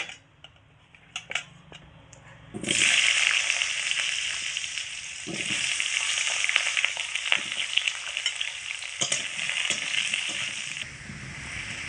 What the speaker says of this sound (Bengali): কড়াইতে আবারও খানিকটা সর্ষের তেল দিয়ে একই রকমভাবে আলুগুলোকেও ভেজে নেব